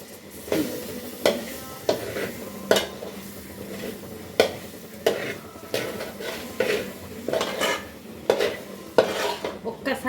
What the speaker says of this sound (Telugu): ఇప్పుడు దీన్ని బాగా కలిపేసుకుందాం